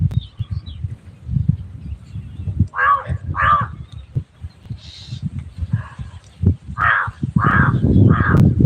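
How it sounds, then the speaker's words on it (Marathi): Crows caw several times on farmland, a couple of harsh calls and then a quick run of three, over low background chatter and noise. "कावळा म्हणतोय मी हाय मी हाय मी हाय"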